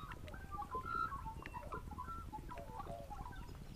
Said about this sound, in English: except for the bird noises.